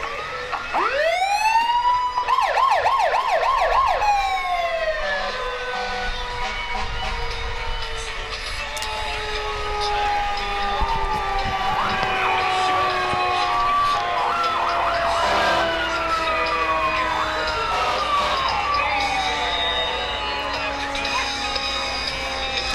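Emergency vehicle sirens wailing loudly at a small-town parade, several overlapping rising and falling tones close by, with faint country music and crowd noise underneath throughout.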